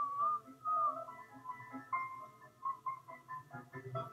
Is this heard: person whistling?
yes